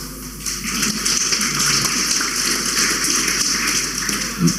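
A steady wash of audience clapping fills the hall throughout a 2013 appearance by Pyotr Mamonov, loud and even with no voices on top.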